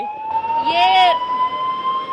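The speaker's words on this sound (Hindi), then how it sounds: "लगातार सायरन बज रहा है" Emergency siren sounding during a war-situation rescue drill in Panipat, a loud steady wailing tone with a rising sweep in the middle, heard continuously over background crowd noise.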